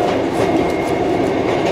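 Train 158827 runs on the rails with a loud, steady rumble and faint clickety-clack of wheels, heard continuously from close by with no voices.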